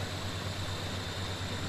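A tractor engine in the video game Farming Simulator 17 idles as a steady, low, droning hum, with no talk over it.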